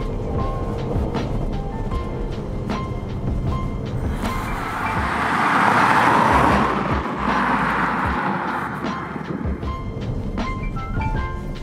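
New Ford Puma Hybrid accelerating on a road, a steady cabin whir and road rumble that swells in the middle and then settles, with no talk over it.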